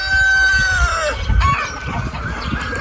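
A rooster crows loudly near the start while hens cluck and mutter in the background throughout, close by and busy.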